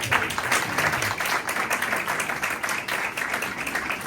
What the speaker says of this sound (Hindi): एक बार फिर जोरदार ताली।